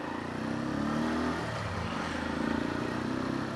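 A Keeway cafe racer motorcycle on its stock exhaust runs steadily nearby, a continuous engine rumble that rises slightly in the middle with no talking.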